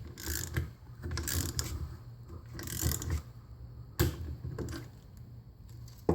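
Metallic ratcheting and clanking of a wrench worked against a strap to break loose a stuck bolt while taking apart a Dynamax fan, in several close bursts with brief pauses and a sharp knock near the end.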